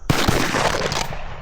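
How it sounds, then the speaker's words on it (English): Two shotgun blasts at a dove go off almost together outdoors, merging into one loud, sharp report that fades over a second. "We shot at the same time."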